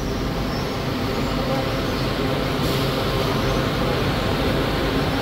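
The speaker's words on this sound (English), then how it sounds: "And here comes my train." Steady, loud rumble of a Kuala Lumpur public transit train arriving at a station at night, a dense continuous roar with no distinct pauses.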